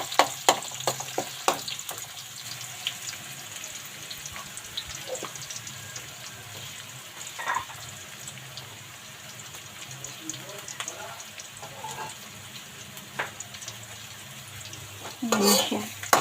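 Garlic frying in oil as it is stirred in a pan, with a steady low sizzle, repeated clacks and scrapes of a utensil against the pan, and a louder clatter near the end; a voice speaks at times.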